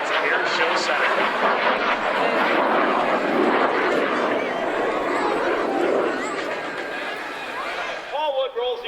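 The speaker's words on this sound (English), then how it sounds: "Paul Wood rolls the aircraft around." A North American F-86 Sabre jet roars loudly and steadily overhead during an air show display, the broadband jet noise fading slightly near the end, with crowd chatter and laughter mixed in.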